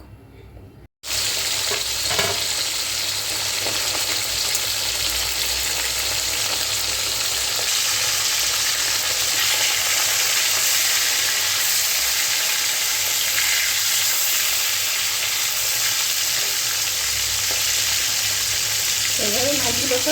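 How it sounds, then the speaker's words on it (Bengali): Pomfret fish frying in hot oil in a wok, a loud, steady, dense sizzle that starts abruptly after a brief silence and continues throughout, with occasional faint stirring sounds. "ভেজে নেব এভাবে মাছগুলো সব তুলে নিলাম"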